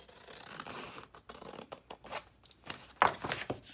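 Scissors snip through paper while a jumbo travelers notebook is trimmed for a craft fair: a run of close, crisp cuts with short pauses and one sharper, louder snip near the end, with no talking.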